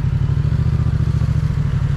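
Motorcycle engine idling or running at steady low revs while the bike leans into a turn, a close, continuous pulsing rumble with even rhythm throughout, no talking over it.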